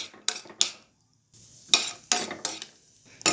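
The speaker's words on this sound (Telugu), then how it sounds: "ఇది గీలో వేసేద్దాం. దీన్ని దూరగా వేయించుకుందాం." Cut cashews and almonds fry in ghee in a pan, with a spoon stirring and scraping against the metal. The sharp clinks come in irregular bursts over a faint sizzle, with short quiet gaps between them.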